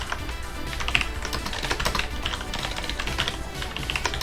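A command being typed on a computer keyboard, fast continuous key clicks and clatter, close and moderately loud, with no voices.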